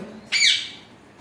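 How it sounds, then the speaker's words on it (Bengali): A single sharp squawk from pet birds, likely parrots, kept in an open, airy enclosure, loud and close and lasting under half a second before fading into quiet background. "আমি আমার পোষা পাখিদেরকে খোলামেলা জায়গায় রেখেছি"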